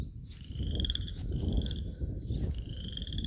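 A frog croaks repeatedly from somewhere nearby in wet, rain-soaked woodland. Short bursts of high chirping calls repeat over a steady low outdoor rumble.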